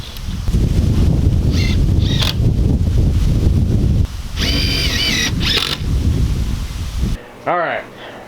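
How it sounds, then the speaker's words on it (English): Cold outdoor wind rushes through leaves, with loud, continuous buffeting noise against the microphone, brief rustling bursts and a short break near the end. "it's a fool's errand fighting the wind with all the leaves"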